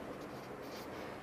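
Pen or marker writing out a math solution for an electrical engineering exam problem, a brief continuous scratchy stroke heard close and fairly quiet.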